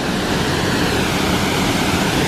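A gushing waterfall at Arrochar near Loch Lomond in Scotland roars as a dense, steady rush of water, loud and close, filling the whole stretch without pause and with no voices.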